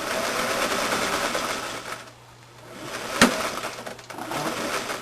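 A sewing machine runs close by with a steady whirring buzz, pauses briefly, gives a sharp click, then resumes stitching.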